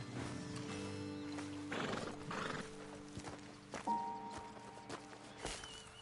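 Horses in the video game Red Dead Redemption 2 snort and whinny near a roadside ledge, with a few hoof clops and shuffles over a steady low ambient hum, and no talking.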